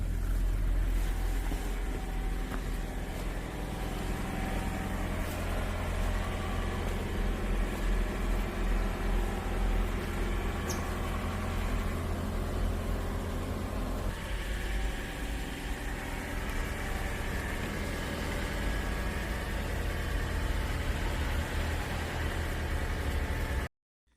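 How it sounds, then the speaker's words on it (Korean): A steady engine drone and road rumble fill the cabin of a Toyota RAV4 plug-in hybrid driving on a highway in charge mode, continuous and moderately loud, with no talking. "엔진 소음 어느 정도인지 볼륨을 약간 높여서 한번 들어보시죠."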